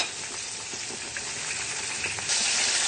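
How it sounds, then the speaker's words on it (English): Pieces of chicken deep-frying in oil until crispy, giving a dense, continuous sizzling hiss that grows slightly louder near the end, with no voices over it. "So the chicken has been frying for about 6 minutes now."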